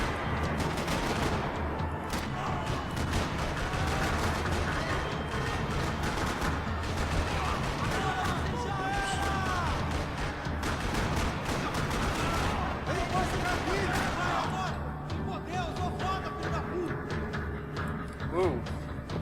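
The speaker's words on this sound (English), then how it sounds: "Another parking lot rattling with gunfire." Dense gunfire in a parking lot during a Max Payne 3 shootout: continuous overlapping bursts of automatic and single shots rattle throughout, loud and sustained, with game sound effects and voices mixed in.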